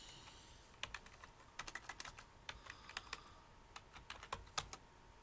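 A password is tapped out on a computer keyboard in quick irregular bursts of light clicks, close and fairly quiet, with short pauses between runs of keys and no talking.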